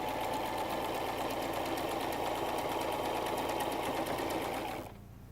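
A sewing machine runs steadily as it stitches salwar fabric along a marked line, a close, continuous whirring drone that holds for about five seconds before cutting out abruptly.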